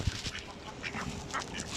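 Mallard ducks quack at a loch in Fife, Scotland, with short, faint calls scattered among other waterfowl such as swans, coots and geese during feeding.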